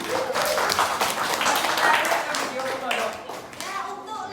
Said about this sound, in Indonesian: Kita berikan tepuk tangan untuk Rafat.